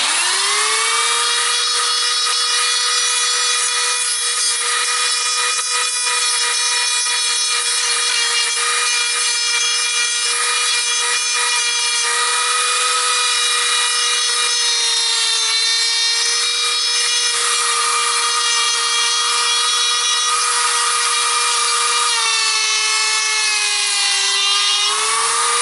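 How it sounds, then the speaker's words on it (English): A power grinder carves bonsai wood along the grain, a loud, sustained high whine with a steady pitch and layered harmonics that dips slightly near the end, running continuously with no pauses. "So you try to move your grinder along the grain so that it will somehow create a natural look."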